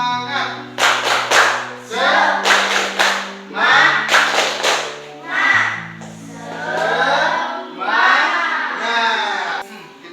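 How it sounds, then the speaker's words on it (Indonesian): Schoolchildren in a Hindu religious education classroom doing a patterned spirit clap chant, bursts of group clapping alternating with loud sung or shouted chant phrases in a steady rhythm. "Ayo tepuk semangat."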